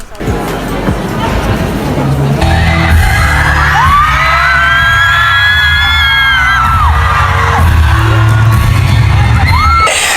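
A crowd at a pop concert screams and whoops loudly and continuously, with sustained high-pitched shrieks and a bang near the start, all close and overwhelming.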